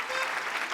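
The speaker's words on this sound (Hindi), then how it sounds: "जरा जोरदार तालियों के साथ" A short burst of crowd applause at a star night stage show, dense clapping heard only for a moment as a performer is welcomed.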